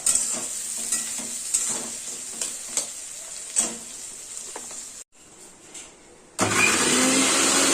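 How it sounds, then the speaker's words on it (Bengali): Chopped onions frying in a pan with a pinch of salt, a steady loud sizzle broken by repeated scraping stirs, a brief quieter gap, then the sizzle surging back. "পেঁয়াজটাকে ভাজা ভাজা করবো"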